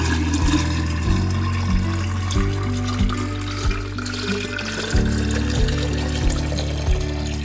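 Buttermilk drains and splashes from freshly made homemade butter as it is squeezed, a close, wet trickling and pouring sound with gurgling, irregular bursts throughout.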